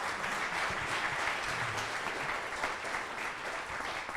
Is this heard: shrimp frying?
no